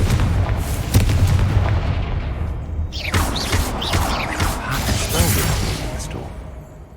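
Casting the Confringo blasting curse in the video game Hogwarts Legacy sets off a loud, dense burst of booming, crackling fiery explosions, followed by a rushing, whooshing trail that slowly fades.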